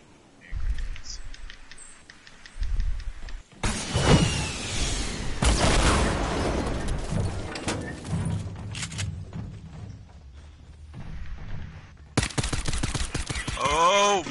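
Rocket launcher blasts and grenade explosions in Fortnite, a dense run of loud booms and gunfire-like bursts filling most of the stretch, with brief pauses and renewed heavy blasts near the end.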